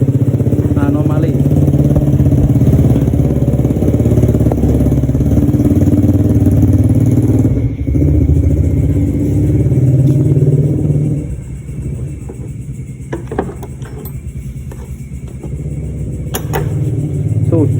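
Suzuki Satria FU motorcycle with a flooding carburetor, its engine running loud and close with a sustained rev that drops to a lower idle partway through, with light clatter and faint talk.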